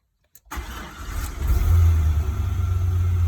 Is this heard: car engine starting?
yes